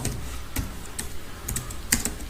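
Computer keyboard keys tapped while entering Python code, a sparse run of distinct clicks spaced irregularly over soft background hiss, no voice.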